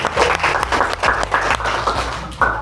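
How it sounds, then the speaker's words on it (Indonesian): A classroom audience applauds after group presentations in a teaching session, with irregular, close hand clapping bursts sustained for a few seconds, fairly loud. "Tepuk tangan untuk kita semua."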